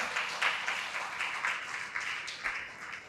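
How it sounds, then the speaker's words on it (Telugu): An audience at a Buddha Pournami spiritual discourse breaks into applause: a dense, fairly loud burst of many hands clapping that runs steadily for a few seconds. "వాళ్ళకొకసారి గట్టిగా క్లాప్స్ కొట్టండి."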